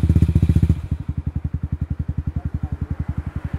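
Honda MSX Grom fitted with a TYGA full stainless race exhaust and carbon can idling close by, a fast even thumping putter that drops from a heavier burble to a lighter steady beat after the first second.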